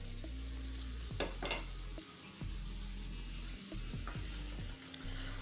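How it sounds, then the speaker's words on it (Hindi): Turmeric and coriander powder masala stirred and roasted in oil in a pan for rajma, a steady close sizzle with repeated scraping stir strokes and brief spoon clicks, no talking. "और मसाला को भी लगातार चलाते हुए अच्छी तरह से भून लेते हैं।"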